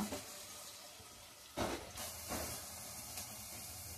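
Onion frying in hot oil in a pan, with a faint, steady hiss and a couple of short, louder bursts of sizzle, heard close with no talking.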